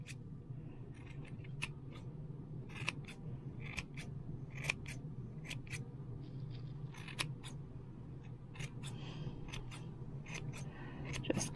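Scissors trimming a yarn pom-pom, a rapid, irregular series of close, crisp snips repeating throughout over a soft steady hum.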